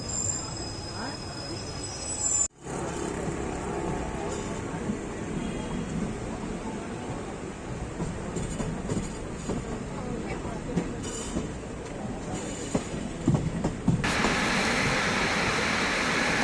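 A Kashipur–Kasganj passenger train runs along the tracks between Lalkuan and Bareilly. Its rumble and rattling wheel clatter are heard from on board with occasional squeals, and a sharp break comes near the start and a louder hiss toward the end.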